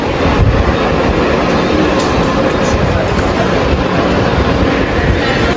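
A Mumbai suburban local train rumbles loudly and continuously close by, a dense roar of wheels and carriages with a short high squeal partway through.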